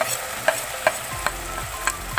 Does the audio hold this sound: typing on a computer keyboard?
no